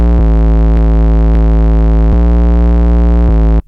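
A human voice imitates an 808 bass with heavy distortion added: a loud, sustained buzzing low tone with dense harmonics that holds steady, stutters briefly at a few points and cuts off abruptly near the end.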